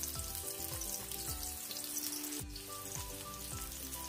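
Garlic and onion sauté in a hot pan with a continuous bright sizzle, soft but steady, broken by a few faint stirring knocks, no speech.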